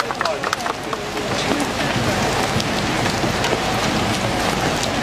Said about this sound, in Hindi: बारिश भी तेज़ होती जा रही है, बिल्कुल ओले भी पड़ने लगे हैं